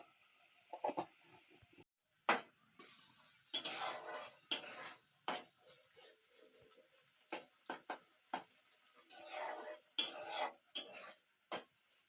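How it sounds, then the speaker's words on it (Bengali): Spice masala fries in a pan for a Bengali aar fish curry, a faint sizzle beneath frequent sharp clinks and scrapes of a metal spoon stirring against the pan, coming in irregular bursts with quiet gaps between. "এই যে এখন এটা কষানো হচ্ছে, একটু দিয়ে দিলাম অল্প করে।"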